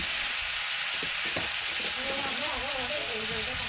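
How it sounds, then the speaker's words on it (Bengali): Boiled bottle gourd and potatoes fry with spices in a hot pan while being stirred with a spatula for a Bengali shukto. A steady, dense sizzle hisses throughout, broken by a few soft stirring knocks, with a faint tonal whine in the background. "আর সব কিছু একসঙ্গে ভেজে নিচ্ছি"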